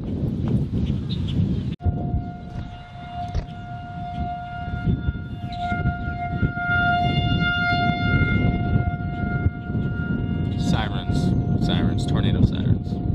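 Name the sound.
tornado sirens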